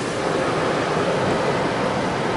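Rinse water sprays steadily onto a car inside a car wash, a dense, loud, unbroken hiss heard close up from within the vehicle, with no talking.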